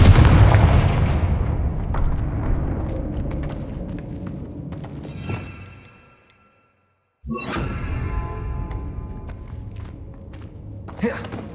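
A fiery Confringo spell blast from Hogwarts Legacy bursts loudly at the start and rumbles away, followed by footsteps, a brief silence, then a second swooshing burst and crackling debris.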